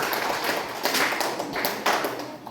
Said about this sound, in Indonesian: Terus tadi tepuk tangan untuk Mayas.